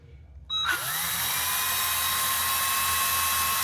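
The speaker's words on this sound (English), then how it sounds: "I'm going to drill a little pilot hole, which is a little difficult because it's right next to the original hole" A power drill bores a pilot hole into a guitar body right beside an old doweled hole, starting abruptly after a quiet moment and then whining steadily and loudly, close up, with no talk.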